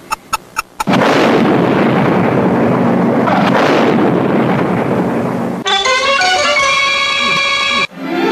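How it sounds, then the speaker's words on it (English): A bomb explodes in an audio drama: a few sharp ticks give way to a sustained, roaring blast that rumbles for several seconds before fading into a ringing, tonal aftermath. "Who survived the explosion?"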